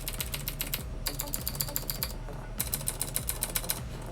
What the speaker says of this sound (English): Do a little typing test though.